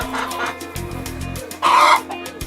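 Hens clucking inside a hen house, a few close, overlapping clucks and murmurs, with one louder squawking burst partway through and quieter fowl chatter throughout.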